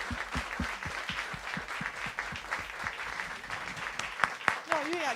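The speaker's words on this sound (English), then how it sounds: "Applaud as he come up" Scattered clapping from an audience at a New Orleans guitar festival as a guitarist comes up to the stage, uneven and moderately distant, with talk and brief sung or voiced tones near the end.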